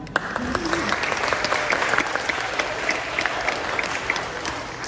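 Steady applause fills a graduation ceremony, a crowd clapping continuously at moderate distance with faint talk over it.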